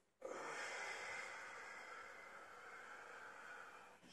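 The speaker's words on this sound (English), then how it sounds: "Now when you inhale" A deep, drawn-out breath during a gymnastics stretching exercise, a steady airy rush that starts abruptly and holds for about four seconds, close to the microphone and fairly quiet.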